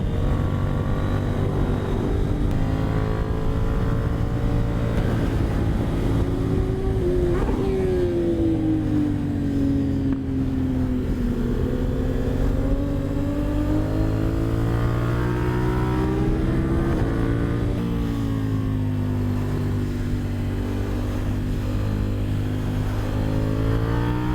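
A motorcycle engine revving while riding on Bridgestone Battlax S23 tyres, a loud continuous drone whose pitch rises and falls with throttle changes over rushing wind noise.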